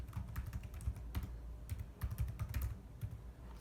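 Rapid typing on a computer keyboard, a dense run of light clicking keystrokes that comes in quick bursts with short gaps, close up and quiet, with no talking.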